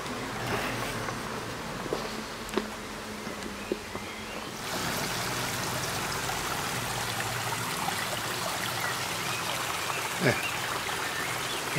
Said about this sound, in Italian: C'è l'acqua che scende